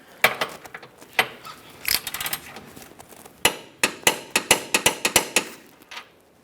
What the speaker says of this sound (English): Now I'm going to be torquing this inboard bolt to 70 foot-pounds.